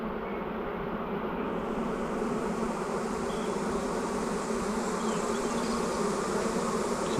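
Swarm of honey bees buzzing in a dense, steady drone as they fan toward a catch box during a swarm removal from a building eave, close and continuous with no voices.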